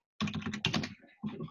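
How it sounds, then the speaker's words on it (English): Keys clatter on a computer keyboard during a software demo of typing a custom URL into a diagram editor, two quick close bursts of clicks separated by a short pause. "I could type here"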